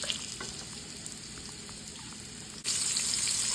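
Shrimp frying in a pan for Baja-style tacos, a steady close sizzle that suddenly jumps louder and brighter near the end as more shrimp hit the hot oil.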